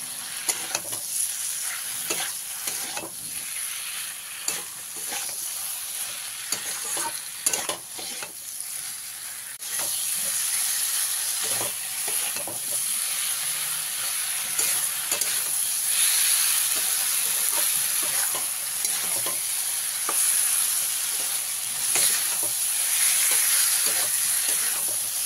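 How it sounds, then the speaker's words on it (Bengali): Chopped medium tomato and half a spoon of cumin powder stirred in hot oil in a frying pan: continuous loud sizzling and steamy hiss with repeated spatula scrapes, growing fuller and hissier partway through. "1 পিস মিডিয়াম সাইজের টমেটো কেটে নিয়েছি, দিয়ে দিলাম। দিয়ে আবারও ভালো করে মিশিয়ে দেবো।"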